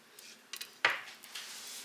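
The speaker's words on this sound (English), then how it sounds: "Our last one has been flipped" A pancake flipped on a griddle, giving a few light scraping taps and one sharper clack of a utensil against the cooking surface, quiet and close.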